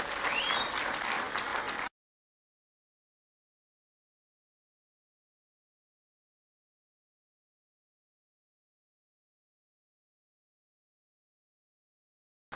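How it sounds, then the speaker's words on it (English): An audience at an event in Nakuru applauds a CEO, giving a short, dense burst of clapping that lasts about two seconds and then cuts off into silence. "Another hearty clap for the CEO of Globaleq."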